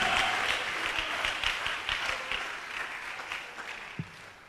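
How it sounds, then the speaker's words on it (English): Church congregation applauding during a sermon, a sustained crowd clapping that slowly thins out, with a few sharper individual claps standing out near the end. "clap where I'm preaching good"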